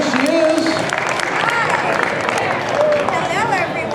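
Audience applause and cheering welcoming Karan Ashley, the Power Ranger actress, to the stage at a Hamilton, Ontario fan convention panel; steady crowd clapping fills the whole stretch with some murmur and voices mixed in.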